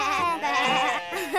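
Sheep bleat in a Miffy cartoon, a wavering, tremulous animal cry held for over a second, close and clear.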